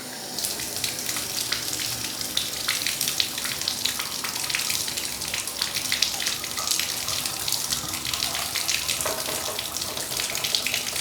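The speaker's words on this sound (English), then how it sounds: "We're going to put that lukewarm water and start running it through the horn." Lukewarm tap water runs steadily through a trumpet lead pipe during cleaning, a continuous close splashing gurgle that holds for the whole stretch with no speech.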